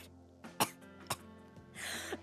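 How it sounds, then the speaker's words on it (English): A few short, dry coughs and throat-clearing bursts from a sick person, close and fairly quiet, spaced irregularly with a rougher rasp at the end. "It's just a cough."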